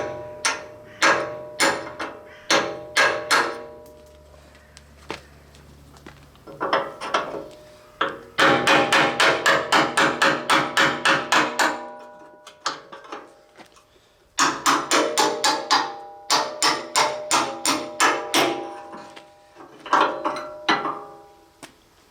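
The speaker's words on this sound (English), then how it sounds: "eventually you can whack the head off and then it'll be separated" Rivet heads being hammered off steel brackets on a Willys MB jeep after drilling with a 10mm bit, heard as bursts of rapid, loud metallic blows in quick rhythmic runs separated by short pauses, with no talking.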